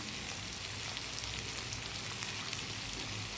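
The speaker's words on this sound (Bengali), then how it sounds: "উচ্ছেগুলো একদম ভালো করে চিপে এই যে তেলে দিয়ে দিচ্ছি" Squeezed bitter gourd pieces frying in hot oil in a pan, a faint, steady crackling sizzle with tiny pops, no talk over it.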